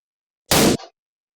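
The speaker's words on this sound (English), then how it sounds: "We can test our gunshot sound by ticking the playing box." A gunshot sound effect for a VR weapon plays once as a sharp, loud bang with a brief rumbling tail and a short echo-like trailing burst, alone in silence.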